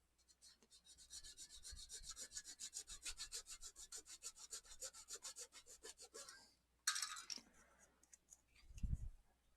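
A fine razor saw trims the edge of a sci-fi model base, making rapid, even back-and-forth strokes, roughly thirty quiet close rasps, followed by a couple of short scrapes and a soft low thump.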